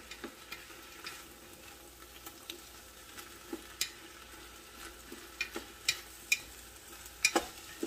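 Ground beef and onions fry gently in a pan, giving a soft steady sizzle, while a utensil stirring them scrapes and clicks against the pan in irregular taps that grow a little more frequent.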